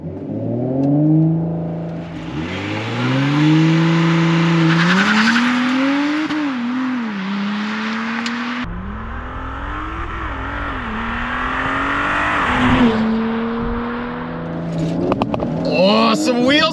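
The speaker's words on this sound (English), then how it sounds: "Let's see how quick we can run this quarter mile with my foot planted to the floor" An Audi B9 S4 on Integrated Engineering Stage 1 tuning with E85 accelerates hard through a quarter-mile run with wheel spin. The engine climbs through the gears with rising revs and a sharp shift, loud inside the cabin, as a voice comments briefly.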